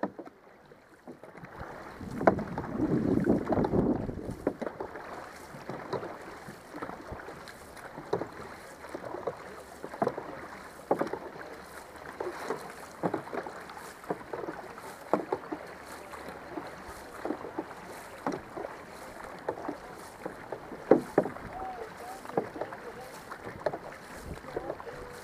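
A team of paddlers strokes a boat through the water during a training session, with rhythmic repeated paddle splashes over steady wind and water noise and occasional voices.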